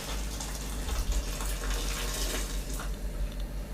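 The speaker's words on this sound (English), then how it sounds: "you just need to drain the water from the swede" Hot cooking water drains from a pan of boiled swede into a sink, a steady, broadband rushing pour held at an even level throughout, close and alone without voices.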